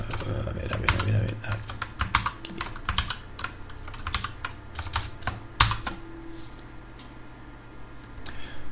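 Fingers type quickly on an English-layout computer keyboard, giving a steady run of close, crisp key clicks with a few brief pauses.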